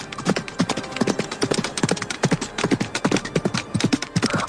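Horse hooves clip-clopping in a steady trotting rhythm, crisp repeated knocks close up and alone, continuing evenly throughout.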